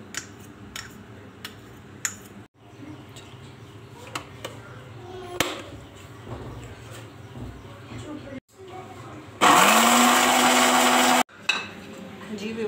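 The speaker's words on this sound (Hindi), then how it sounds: "अब हम इन तीनों इंग्रेडिएंट्स को ग्राइंड कर लेंगे" A small kitchen grinder blends three night cream ingredients in one loud, whirring burst of about two seconds, set among scattered clicks and handling noises with someone speaking before and after.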